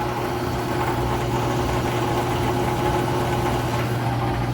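Washing machine on its final spin cycle with a basketball tumbling inside, a steady droning hum and rumble with constant vibration, loud and unbroken throughout.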